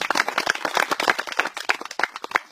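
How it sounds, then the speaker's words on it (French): At an archery club's 20th-anniversary gathering, a small group claps in a fairly regular rhythm, the individual hand claps distinct and close, suggesting a modest round of applause. "On peut les applaudir bien fort."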